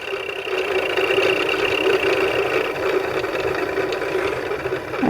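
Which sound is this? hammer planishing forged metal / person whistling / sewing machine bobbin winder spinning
sewing machine bobbin winder spinning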